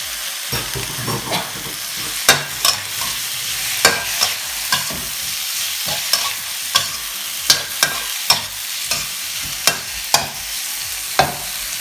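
Shrimp sizzle in a hot pan for a holy basil stir-fry, with a bright steady hiss broken by repeated scraping clacks of a spatula stirring, close and loud with no talk.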